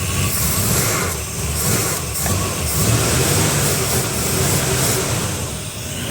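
A Harley motorcycle running on 100-octane race fuel revs at close range, a loud, rough, continuous engine roar with rising and falling throttle and no voices over it.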